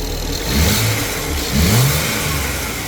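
BMW engine with an added vacuum hose revving twice in quick succession, each throttle blip rising and falling over a steady close idle, loud and with no talking.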